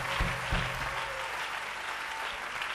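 A church congregation claps as an offering to the Lord, a dense, steady wash of applause from many hands, loud and continuous with a couple of heavier thumps early on.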